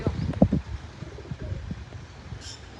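Pet pigeons coo softly in a few low, throaty bursts near the start, followed by quieter rustling and faint background noise.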